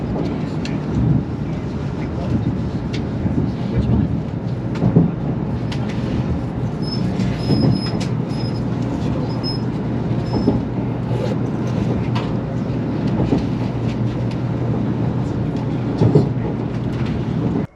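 Inside a Shinkansen Nozomi bullet train pulling into Nagoya, a low steady rumble and rolling rail noise carry on with occasional clunks and faint high squeals, continuous and moderately loud throughout.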